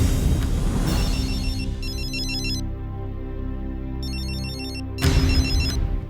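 A phone rings with a repeating electronic tune, bursts of chirping tones over a steady melody, fairly close and clear.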